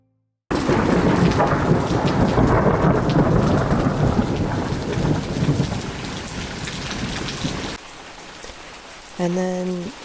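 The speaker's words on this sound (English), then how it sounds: "A storm rolled in" A thunderstorm rolls in with heavy rain pouring steadily on surfaces and a deep rumble of thunder, loud and close, easing to a lighter patter near the end before a brief tonal sound.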